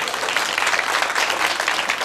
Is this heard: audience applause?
yes